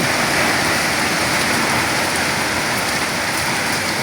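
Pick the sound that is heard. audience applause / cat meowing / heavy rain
heavy rain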